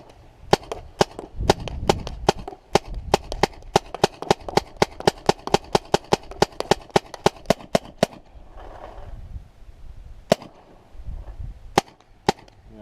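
Paintball marker firing frozen paint from a hopper: a rapid string of about two dozen sharp, loud pops over eight seconds, then a pause with faint handling noise and a few more isolated shots.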